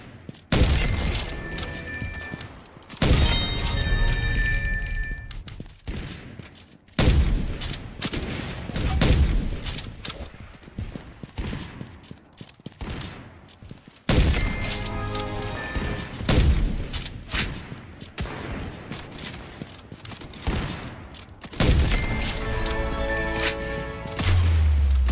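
Sniper gunfire in the Roblox game Sniper Arena: loud bursts of shots in clusters separated by brief pauses, sharp and close, with metallic mechanism clicks between volleys and no speech.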